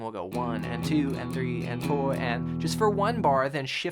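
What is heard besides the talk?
No everyday noises stand out.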